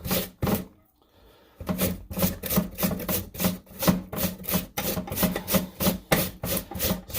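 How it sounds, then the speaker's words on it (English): A potato being grated by hand for hash browns, with steady, rhythmic rasping strokes close up and one brief pause early on. "In the meantime, I'm grating my potato."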